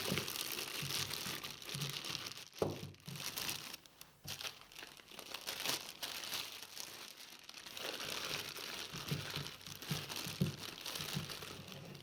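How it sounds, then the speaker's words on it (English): A plastic bag crinkles and rustles continuously as it is pressed into a container as a liner, with brief louder crackles and steady mid-level crinkling throughout. "Then using a plastic bag as a liner, setting it in."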